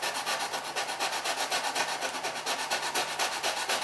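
Close, steady sanding of a brace joint inside a Bruno Ventura guitar with a small block of 180 grit sandpaper, made of quick, even back-and-forth rasping strokes repeating throughout with no talking.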